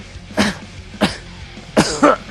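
Three sharp coughs, close and distinct, separated by short pauses, with the last one a double burst.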